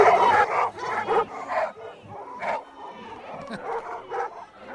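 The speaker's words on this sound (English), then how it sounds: "You can hear them barking. They're excited." Golden retrievers at a gathering in Scotland bark and yip excitedly, a lively cluster of overlapping barks and whimpers repeating throughout, fairly close and clear.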